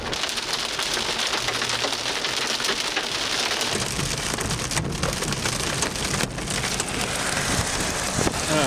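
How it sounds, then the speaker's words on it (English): Hail pelting a storm-chasing vehicle during a supercell storm in Illinois, a dense, continuous clatter of stones drumming on the body and bouncing off the mirror, loud and close with a steady roar throughout. "Oh yeah, hail."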